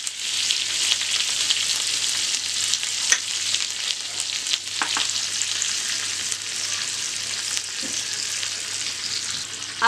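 Mustard seeds, cumin, green chilies and curry leaves sizzle and crackle in hot oil for a tadka, a continuous close frying hiss with scattered pops and spatters.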